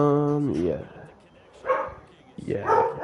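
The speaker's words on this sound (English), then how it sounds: "Sorry if you guys hear dogs in the back." Dogs barking in the background of a home podcast recording, a few separated yips and barks with whimpering tones that rise and fall across the moment, fairly close and loud.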